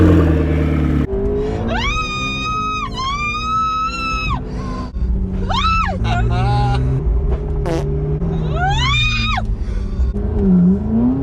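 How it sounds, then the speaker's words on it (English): A McLaren sports car accelerates hard with a loud engine drone underneath, and a passenger's high-pitched screams and shrieks rise over it several times. "I'm gonna take my friend Maria on a ride in a McLaren because she's never been in a McLaren before."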